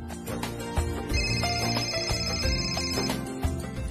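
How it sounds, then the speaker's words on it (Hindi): A phone ringtone plays a bright, repeating electronic melody, fairly loud and close, with no talking over it. "सराबर जी का फोन है।"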